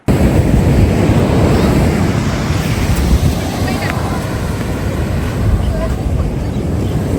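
Ocean surf at Stanwell Park beach rolls in as a loud, continuous roar, with heavy wind buffeting the microphone throughout.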